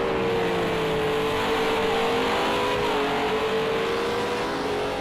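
Renault RS 01 race cars in Project Cars 2 roaring past at high revs, a loud continuous engine whine with shifting pitch as several cars race close together, no talk.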